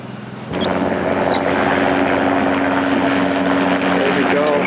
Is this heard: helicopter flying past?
yes